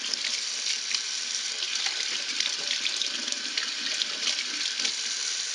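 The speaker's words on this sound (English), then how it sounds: "Let me turn that water over some more." Water pours steadily from a tap into a sink while a makeup brush is rinsed, a continuous close splashing hiss with no voices.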